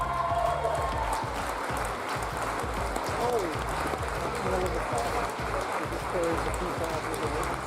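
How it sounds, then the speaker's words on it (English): A crowd in a gym applauds and cheers at a girls high school basketball district game between Columbus Grove and Colonel Crawford, sustained clapping with voices and an announcer's talk mixed in. "a big round of applause for head coach Mr."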